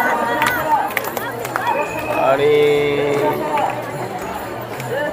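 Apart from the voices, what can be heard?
large crowd of pilgrims at Pandharpur on Ashadhi Ekadashi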